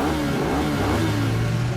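A cartoon super bike's engine revs in a loud, continuous, close roar that fills the brief moment without any talk.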